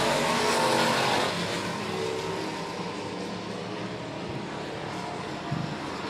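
Race cars circling a dirt oval at Monett Motor Speedway, a steady broad roar of several engines running together at a distance, holding fairly even throughout with a slight swell near the end.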